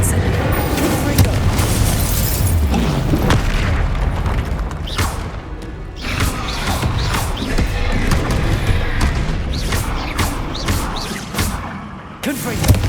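Fiery Confringo spell explosions from Hogwarts Legacy burst repeatedly, each a booming thump, amid spell combat with other casting sounds.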